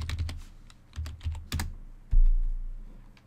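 Typing on a computer keyboard to log in to Windows 10, a quick burst of close key clicks followed by a few heavier keystrokes and a firm final press, with no talking.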